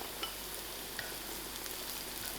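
Garlic frying in a pan for a quick tuna pasta, a steady soft sizzle with faint crackles and a light stir, fairly quiet and with no talking.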